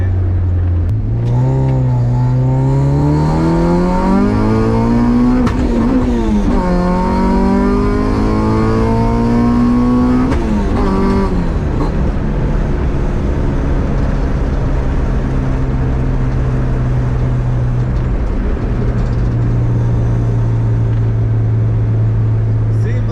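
An all-motor H2B Honda Civic street car accelerates hard with rising engine revs, drops pitch at each gear change, then settles into a steady drone, close and loud with someone talking over it.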